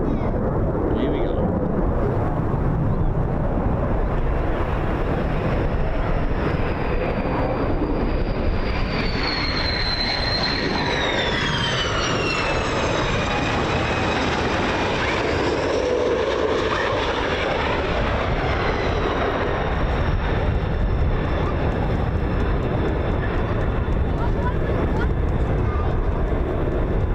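An airplane passes overhead on its approach to land near Long Beach, a loud, continuous jet engine roar with a whining tone that rises and falls as it goes by, filling the whole stretch and masking other sounds.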